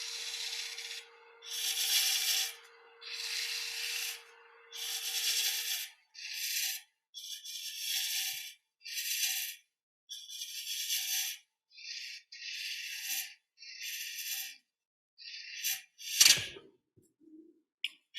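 A 1/4 inch spindle gouge cuts into a spinning wooden ring blank on a lathe, a knot in the wood catching, heard as a series of loud rasping scrapes of varying length with short pauses between them, close and without talk.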